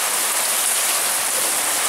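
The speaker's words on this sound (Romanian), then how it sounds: "Ploaie la Vicențiu acasă." Summer rain pouring steadily onto a street in Brașov, Strada Iuliu Maniu, a dense, even hiss with no voices.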